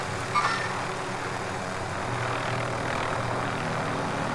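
A helicopter in Call of Duty Warzone gives a steady, close engine and rotor drone that holds evenly throughout, with no talk over it.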